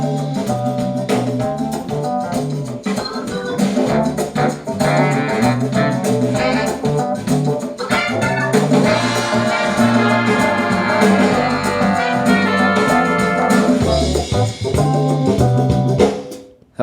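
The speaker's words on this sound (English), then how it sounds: "There was a lot going on in that piece, with the Hammond organ and all of the electronics and percussion." Busy copyright-free instrumental track with Hammond organ, electronic textures and driving percussion, played back through concrete speakers, loud and continuous for the whole stretch before cutting off abruptly at the end, with no talk.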